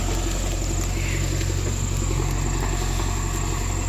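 A tractor engine drones steadily and loudly at a sugarcane field while pulling a stuck sugarcane trolley, a constant low throb with no voices.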